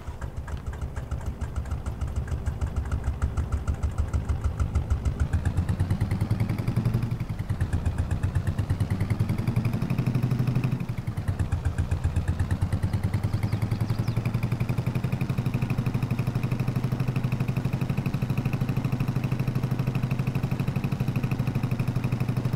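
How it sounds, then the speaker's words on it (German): A tractor engine in Farming Simulator 22 idles steadily, revs up twice with a rising then falling pitch, and settles back into a loud, continuous drone, close and alone. "ich mache den Motor jetzt noch mal einmal an und drehe damit eine Runde"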